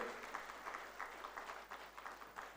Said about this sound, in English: Round of applause to her once again.